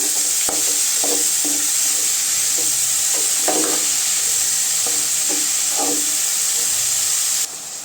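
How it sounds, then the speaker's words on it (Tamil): Ridge gourd being stirred into sautéed onions in a frying pan, with a constant loud sizzling hiss and a series of rhythmic scraping strokes from a spoon, close up and without talk. "இப்போ காய் சேர்த்துக்கலாங்க காய் சேர்த்து நல்லா கொஞ்சம் கலவி போடுங்க"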